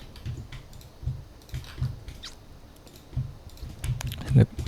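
Computer keyboard typing during a SketchUp floor-plan session, with scattered soft key clicks and a few louder taps in short bursts at close range, alone without talk.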